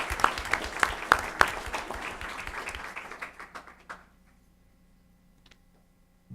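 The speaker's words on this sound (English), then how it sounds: "a round of applause for her" Audience applause at a school district board meeting: a few seconds of scattered hand clapping with some sharp individual claps, tapering off into near silence in a quiet room.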